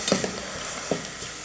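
Onions sautéing for sundal are stirred in a pan: a soft continuous sizzle with a few scraping knocks of the spoon against the pan, close and fairly quiet.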